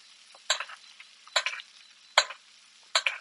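Food being basted in a frying pan on an induction stove, with about four separate bursts of sizzling spaced roughly a second apart as the hot fat is spooned over, moderately close and otherwise quiet.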